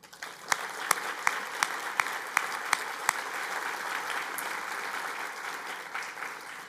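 Audience applause at a bar association opening luncheon, a dense crowd of clapping from start to finish with a few sharper claps standing out near the beginning.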